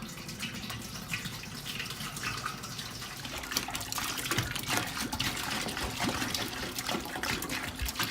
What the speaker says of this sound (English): 1 gallon of water, put it in our pot